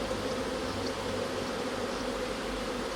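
Dense, steady buzzing of many honeybees close by, queenless and disorganised as nucleus colonies are merged with the newspaper method, a continuous swarm-like drone with no voices.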